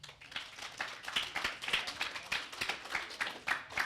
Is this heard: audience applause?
yes